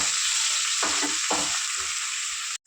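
Sliced onions frying in a pan for a Telugu cucumber fish curry, a close, dense and steady sizzle with a couple of soft stirring swishes midway before it cuts off abruptly.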